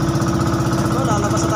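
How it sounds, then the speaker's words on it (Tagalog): A second boat engine being started on a fishing trip out from Pandana Island for tuna, with a steady close rumbling motor drone running continuously throughout, no voices heard. "Papaanda rin na yung isa niya pang makina."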